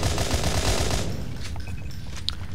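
In the game Natural Selection 2, a pistol fires on rapid fire as a dense burst of loud shots for about a second, followed by a quieter stretch with a few scattered clicks and a sharp tick.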